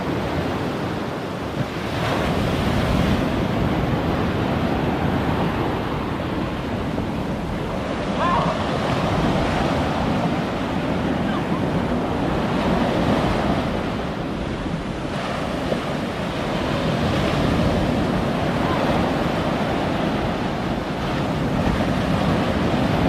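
Ocean waves break steadily on Long Bay beach in a continuous rolling surf roar, with wind buffeting the microphone and no voices.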